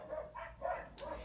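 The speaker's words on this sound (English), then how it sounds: "my dogs are deciding that they're going to help us with the lesson today by barking" Dogs barking faintly in the distance, three short muffled barks in a row heard behind an indoor room.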